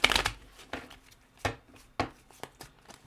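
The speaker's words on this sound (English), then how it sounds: "I'm shuffling them." A deck of playing cards is shuffled in several crisp riffling bursts, each a quick papery flutter, repeated at irregular intervals close by with quiet pauses between.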